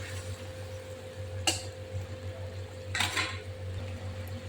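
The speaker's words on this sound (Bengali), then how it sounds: "একটু হলুদ দিয়ে দেবো সামান্য পরিমাণে বেশি হলুদ দেবো না দিয়ে নেড়ে চেড়ে এটা একটু পটলের সঙ্গে" A spatula stirs pointed gourd with turmeric in a pan, striking the pan twice with brief clinks over a faint low background hum, with no talking.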